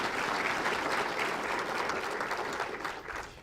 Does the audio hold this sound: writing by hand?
no